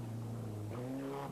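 A Nissan rally car runs a stage of the 1993 Ypres Rally, its engine humming steadily before climbing in pitch as it accelerates, distant and low in level.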